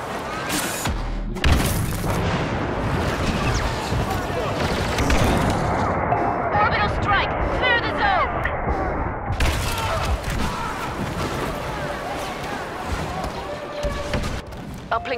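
Star Wars Battlefront battle: repeated booms and bursts of gunfire crackle through a busy, dense mix, with in-game voice lines speaking over the combat.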